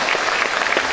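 Loud, dense applause from the crowd at a provincial governor's inauguration ceremony in Jeollabuk-do, a continuous close wash of clapping throughout.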